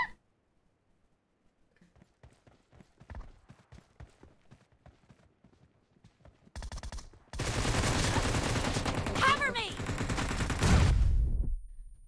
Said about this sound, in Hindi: मैं अपनी खुद की टीम को गोलियों से मार सकती हूँ